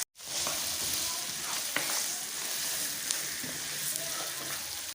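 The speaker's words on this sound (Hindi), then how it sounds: "अब इसमें 1 चम्मच नमक, 1 चम्मच काली मिर्च पाउडर ये डाल के मसाले को अच्छे से भून लेंगे" A masala of green chillies, salt and black pepper powder fries in a pan for mutton biryani, giving a steady close sizzle with occasional stirring scrapes and clicks.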